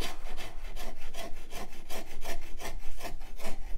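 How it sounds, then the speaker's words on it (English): A razor file shapes a wooden guitar neck by hand in fast, rhythmic rasping strokes, each scrape loud and close, repeating about three times a second with no talk. "The razor file is always like a there's a fluid motion you have to do to get it to cut correctly."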